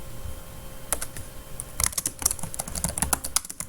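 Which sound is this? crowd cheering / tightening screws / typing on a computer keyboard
typing on a computer keyboard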